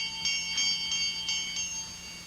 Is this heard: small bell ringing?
yes